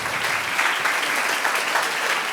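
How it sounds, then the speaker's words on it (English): A conference audience at an innovation and education session in Lyon breaks into sustained, even applause, a dense wash of many hands clapping with no voices above it. "You can applaud him."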